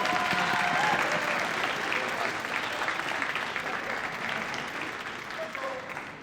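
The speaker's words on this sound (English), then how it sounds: "let's give our parents and families a round of applause" At a high school holiday concert, the audience applauds parents and families, sustained close clapping mixed with cheers and faint voices in the crowd.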